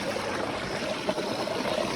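Steady, broadband rush of the Satluj river flowing, a continuous close wash of water with no voices over it.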